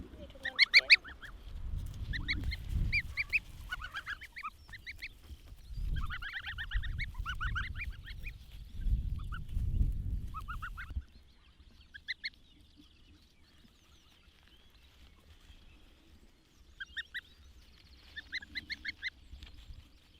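Geese honk repeatedly in loud, overlapping bursts over low rumbling noise, then settle into quieter, scattered calls near the end, with a dog present in the yard.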